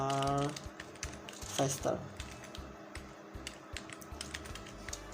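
A command is typed on a computer keyboard as a quick run of light key clicks. Someone speaks over the typing.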